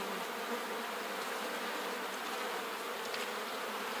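Honeybees swarm around a healthy, well-populated hive, their buzzing forming an even, unbroken drone up close with occasional brighter passes of single bees and no speech.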